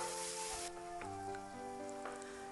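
Vegetables stir-fried in a wok with soybean paste and cooking wine give a steady close sizzle, with a few short scraping stirs over a continuous hum.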